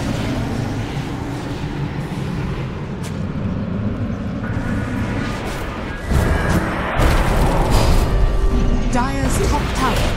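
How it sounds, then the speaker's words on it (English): A tower crumbles in a Dota 2 match: a rumbling blast swells suddenly partway through and stays loud over a dense bed of battle noise and game effects. "Dire's top tower has fallen."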